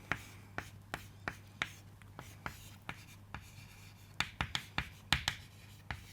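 Chalk or marker strikes and strokes on a classroom board come in quick, sharp taps at a close, fairly quiet level, with a steady low hum beneath.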